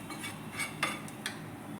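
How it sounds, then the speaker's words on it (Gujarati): A spoon scrapes and knocks in a bowl as a tempering of spices is mixed into a mashed potato stuffing, giving soft, close clinks and scraping over a steady low background hiss. "આ વઘારને આપણે બટાકાની અંદર એડ કરી દેવાનો છે અને બરાબર મિક્સ કરી"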